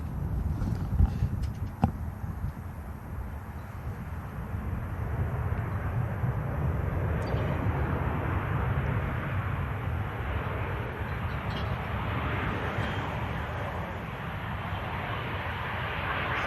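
A Ryanair airliner touches down at Manchester Airport, a broad steady roar of engines and rolling wheels that builds gradually and holds for a long stretch, heard from some distance, with a few faint clicks early on.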